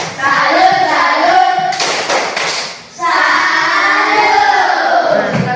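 A classroom of pupils performs a rhythmic salute clap, a short burst of quick sharp claps between stretches of a teacher's voice.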